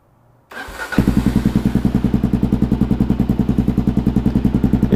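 A Kawasaki KLR650 motorcycle engine on a cold start cranks briefly, then catches and settles into a loud, steady, lumpy single-cylinder idle with a regular pulsing beat, heard close up with no talk.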